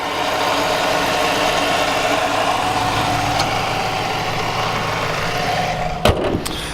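The engine of a 2010 Dodge Challenger SRT8 fitted with a Vortec supercharger runs at a steady idle, a continuous deep rumble heard close up, with a sharp knock or thump near the end.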